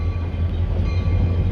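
A passing train rumbles loudly and steadily nearby with a deep low drone at a crossing in a no-horn zone; the sustained tone may include the horn, with no voices.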